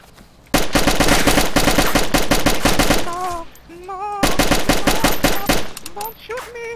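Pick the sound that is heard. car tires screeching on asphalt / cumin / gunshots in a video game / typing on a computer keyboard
gunshots in a video game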